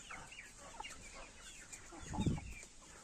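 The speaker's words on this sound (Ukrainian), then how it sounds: "є дорослі кури" Soft, scattered clucking from chickens nearby, with a louder low rustle near the end; quiet overall and no voices.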